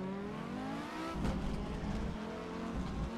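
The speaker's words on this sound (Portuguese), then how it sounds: "O barulhão que faz o freio dessa porra desse Scorch" Scorch car in a racing video game roars along with a loud rising engine whine, then a sudden harsh brake screech and skid that hangs on under the continuing engine tone.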